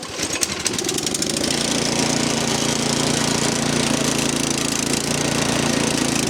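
An MTD snow blower with a Powermore 208cc engine catches after a few sputtering pulses and settles into a loud, steady, close-up running drone throughout.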